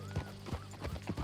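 Horse hooves clip-clop in a video game, a steady run of about six close, crisp hoofbeats in a trotting rhythm, faint and without speech.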